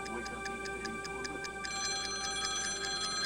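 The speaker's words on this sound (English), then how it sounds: "Cheryl and Paul Chapman were awakened by a phone call" A telephone rings early on a Sunday morning with steady, repeating electronic pulses that continue throughout, moderately loud and alone with no talking.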